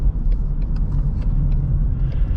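A 2021 Ford Mustang EcoBoost base model with rear-wheel drive rounds a corner, its engine and road noise forming a steady, close rumble with no voices.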